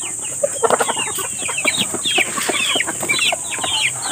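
Many chickens cluck busily together at close range, a dense, overlapping chatter of short calls with faint pecking and shuffling beneath.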